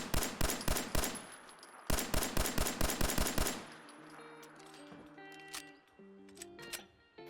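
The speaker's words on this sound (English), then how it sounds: "Let's go ahead and fire and reload this one." A semi-automatic N80 10mm pistol in Fallout 4 fires a fast string of close, loud shots in two bursts, followed by a softer run of mechanical clicks and clacks as it is reloaded.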